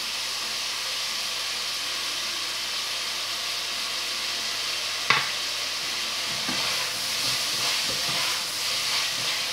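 Vegetables frying in a pan for a Córdoba-style oxtail stew, with a steady sizzle throughout, then a sharp clank and a few scraping stirs near the end.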